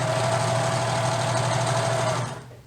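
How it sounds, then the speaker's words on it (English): A sewing machine stitches elastic along the edge of basic underwear with a steady, continuous mechanical whir and hum that runs unbroken for a couple of seconds, then slows and stops near the end. "I'm sewing right along the edge"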